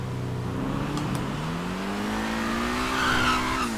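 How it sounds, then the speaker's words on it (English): A car in GTA V drifting, its tires squealing in a sustained rising tone over a steady engine drone, close and continuous with no talk. "Just kick a bit of a drift there"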